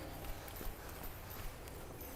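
A horse's hooves clip-clop faintly at a steady walking or trotting rhythm during a riding lesson, soft and somewhat distant against low background noise.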